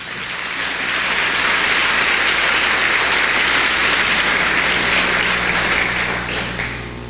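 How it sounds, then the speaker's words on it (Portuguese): A church congregation applauding during a worship programme, a loud, sustained roar of clapping that swells and holds before tapering off, with a low steady hum underneath. "Você pode até dar um aplauso ao Senhor."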